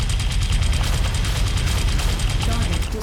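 Machine guns fire in the mech combat game MechWarrior 5, making a continuous, fast, even rattle that stays loud and close for the whole stretch without a pause.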